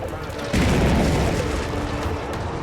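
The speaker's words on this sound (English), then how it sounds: "The supermarket is still well alight, and its contents are exploding in the heat" Contents of a burning supermarket bursting in the heat of a large fire, a sudden loud boom that cuts in and rolls on into a dense, sustained roar of fire and debris.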